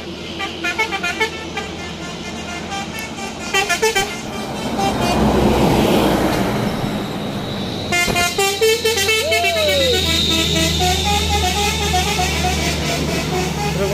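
A Volvo B11R coach from PO Bintang Utara Putra passes on the road, its engine rumbling loud and close while several horn toots sound in bursts, with traffic noise continuing underneath.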